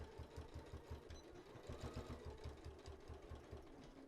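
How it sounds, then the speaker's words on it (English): A sewing machine lock stitching back and forth across fabric on a patchwork pet leash, giving a quiet, rapid, even mechanical chatter of needle strokes that runs steadily throughout. "let's sew right across here to secure that."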